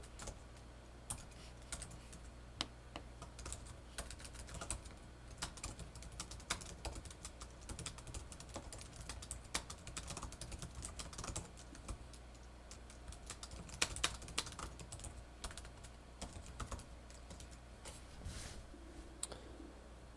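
Continuous typing on a computer keyboard, a steady stream of quick clicking keystrokes with no talking, entering the subject and text of a discussion post in an online course forum.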